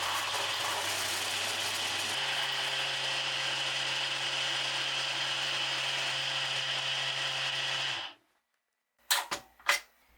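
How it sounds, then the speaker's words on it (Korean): A blender runs steadily and loudly for about eight seconds, finely grinding shrimp bisque stock for a dalma shrimp risotto, then cuts off abruptly, leaving a brief silence and a few short clinks. "이제 블렌더로 곱게 갈아줍니다."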